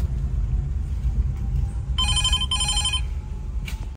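A ride request alert on a phone running the Ola ride-hailing app rings as a short electronic burst of two quick tone pulses over a steady low rumble.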